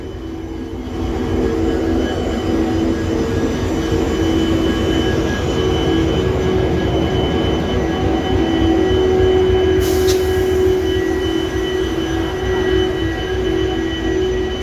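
A train runs along a railway line where track work is underway, its steady heavy rumble and rolling wheel noise continuous and loud throughout, with a brief high squeal partway through.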